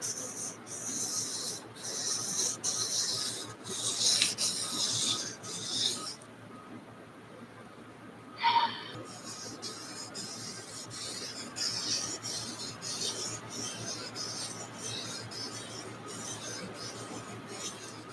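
Steady raspy rubbing of sandpaper by hand on metal, continuous strokes with a brief pause midway, fairly close and moderately loud.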